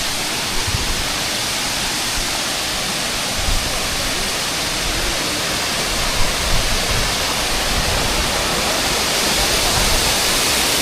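A waterfall at Puerto Galera roars in a dense, unbroken wash of rushing water, loud and close, with no speech over it.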